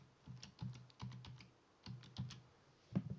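Keys tapped on a computer keyboard while entering a password, a quick irregular run of close, crisp clicks in small bursts with short pauses, no talking.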